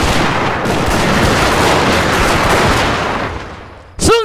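Rapid Gatling gun fire from a mass battery in Total War: Shogun 2, a dense continuous roar of overlapping shots that fades slightly, then a brief rising whistle-like tone near the end.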